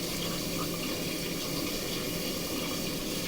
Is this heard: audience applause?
no